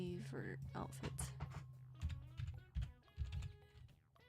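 Quick clicky keystrokes on a computer keyboard typed in a dark room, light irregular tapping mixed under a person talking close to the microphone.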